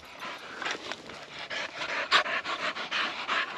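Hunting dogs on a quail and partridge hunt pant rapidly and steadily close to the microphone, a continuous breathy rhythm with an occasional sharper sniff.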